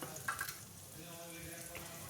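Long-sliced onions fry in about three spoons of oil, a soft, fairly faint continuous sizzle with a brief stir near the start.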